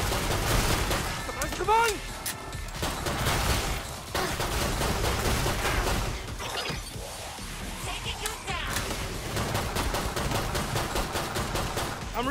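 Rapid gunfire and bursts of shooting from the zombie shooter video game Killing Floor 2, dense and continuous, with a player shouting over the shots.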